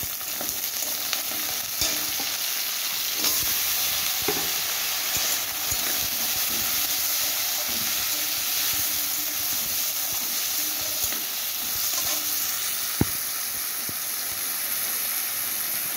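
Garlic, onion, potato and eggplant frying in oil for a spicy taro stolon curry, a steady close hiss and sizzle that runs unbroken, with occasional faint stirring scrapes and one sharp clink near the end.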